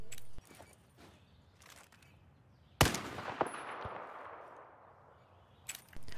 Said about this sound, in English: One shot from the DMR takes the slam down to 1 or 2 health points.